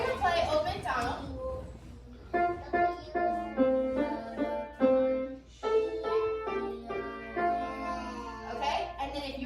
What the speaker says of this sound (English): So I'm going to play Old MacDonald.